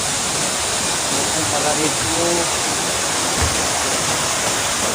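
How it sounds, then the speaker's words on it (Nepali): Clear mountain river flowing under a bridge in Nepal, a loud, steady rushing wash of water filling the whole clip while someone speaks briefly over it. "बिचमा खोला छ,"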